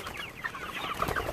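Chickens cluck in short, scattered bursts on a farm, several birds close by and moderately loud, with no voices over them.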